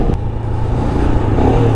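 Royal Enfield Himalayan motorcycle launching hard in a street drag run, its engine a steady close, loud drone that holds strong throughout with a faint clatter over the top.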